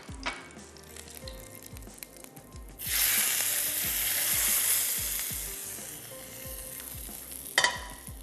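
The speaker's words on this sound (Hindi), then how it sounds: "ये आ गया इसके ऊपर भगार।" Hot oil tempering with ginger is poured over fried fish topped with butter, setting off a sudden loud sizzle partway through that fades slowly. Quiet clicks and knocks come before it, and a sharp burst of spatter near the end.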